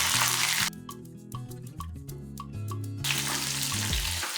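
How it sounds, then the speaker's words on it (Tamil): Whole garlic cloves fry in oil for a garlic curry. A bright, steady sizzle fills the opening and closing stretches, and a quieter passage with soft tonal sounds and light clicks sits between them. "இது கொஞ்சம் நல்லா வதங்கட்டும்"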